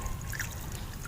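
Water poured onto used planting media in a small pot, a soft continuous trickling and splashing close by, lasting about a second without speech.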